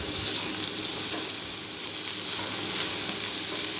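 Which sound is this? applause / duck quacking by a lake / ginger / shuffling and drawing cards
ginger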